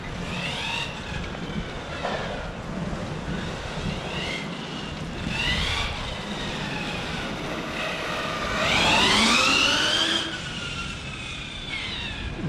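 A Hobao Hyper 10SC RC short course truck on 4S with a 2400kv motor whines steadily through wind noise, its pitch sweeping up and down as it accelerates and brakes, and swells loudest near the end of the run.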